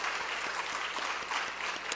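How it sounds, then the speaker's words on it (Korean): A church congregation at a Sunday worship service in Gunpo claps to welcome two visiting guests. The sustained applause is even and moderately loud, a continuous patter of many hands filling the hall with no talking. "박수로 우리 환영합니다."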